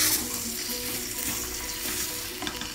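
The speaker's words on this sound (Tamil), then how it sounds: "ஃபுல்லாக நல்லா பிரட்டி விட்டுருங்க." Paruppu usili with grated coconut being stirred in a frying pan, a steady close sizzle with soft scraping turns of the spatula throughout, no voices.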